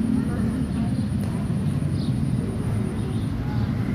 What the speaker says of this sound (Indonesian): cara menghabiskan baterai drone kalian ya, dengan diterbangin aja lah, hitung-hitung manasin mesin drone kalian